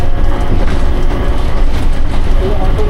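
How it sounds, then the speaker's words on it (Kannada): Automated, driverless Skytrain shuttling between terminals at Singapore airport, a steady loud rumble of wheels on track with faint clatter running throughout. "ಟರ್ಮಿನಲ್ 2ಇಂದ ಟರ್ಮಿನಲ್ 3ಗೆ ನಾವು ಸ್ಕೈ ಟ್ರೈನ್ ಹತ್ತಿದ್ದೀವಿ."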